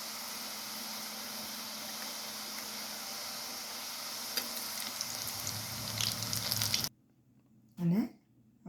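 Gujarati chakri crackles and sizzles in hot oil, a steady bubbling hiss that swells slightly before cutting off abruptly, followed by near silence and one short clatter.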